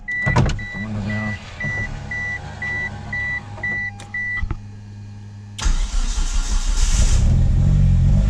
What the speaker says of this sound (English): put the window down.